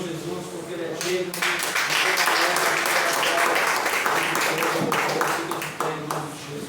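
A church congregation applauds, dense sustained clapping filling several seconds at steady strength, with a voice talking faintly underneath.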